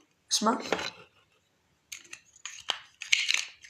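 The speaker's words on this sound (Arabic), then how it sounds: "سمعت هذا صوت ليجو." Plastic bricks clatter and rattle in a few short bursts with pauses between, close by and fairly quiet.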